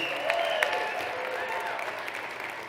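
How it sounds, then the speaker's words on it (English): Applause from the audience at a speaker-series event held at the Palisades Tahoe venue, a steady wash of clapping lasting the whole stretch, with a few louder claps and faint voices mixed in. "Please clap it up for them for this amazing venue."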